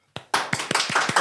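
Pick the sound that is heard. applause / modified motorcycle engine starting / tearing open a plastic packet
applause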